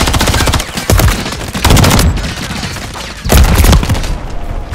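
Automatic gunfire in Modern Warfare 3, loud rapid bursts close by that come in three heavy waves with brief quieter gaps between them, with no talk over it.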